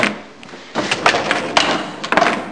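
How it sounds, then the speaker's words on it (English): A dishwasher drawer rolls open with a few light clatters and knocks, close by, then a short rattling slide near the end. "There's the dishwasher, the drawer opened"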